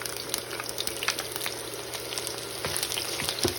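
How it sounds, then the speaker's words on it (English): Chopped onions go into about a cup of hot vegetable oil for Liberian fried spinach and fry with a steady, close sizzle and crackle, with a few louder pops and stirring clatters along the way. "Next, we're gonna add our onions into our oil."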